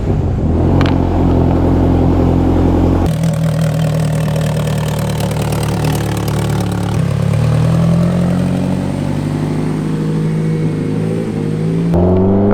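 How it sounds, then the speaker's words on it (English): An Ariel Atom's engine runs loud and close throughout, idling with a rough mechanical rumble and then shifting into a rising drive tone with gear changes, no voices over it. "let's just hop in the Atom. And we'll go for a drive"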